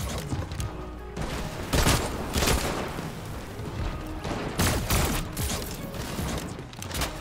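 Odd weapon firing in Fortnite, with repeated bursts of loud shots and booming blasts spread through a busy game soundscape.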